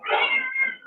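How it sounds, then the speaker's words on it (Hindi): A cat gives a single short meow, close and fairly loud, with a quick rising then falling tone and no talk over it. "बिल्ली को बाहर भगा दो थोड़ी देर के लिए।"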